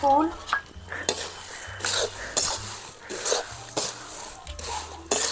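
Mustard seeds, fenugreek and bay leaf roasting in oil, stirred with a metal spoon that scrapes and clinks against the pan in uneven bursts over a light crackle, close by, without speech.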